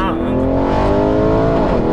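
Porsche Cayenne Turbo 2019 tuned to 700 cv, its engine note loud and close with a steady rising and falling revving drone running through the whole clip, voices talking over it.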